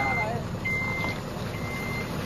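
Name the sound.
truck reversing beeps as it leaves through the gate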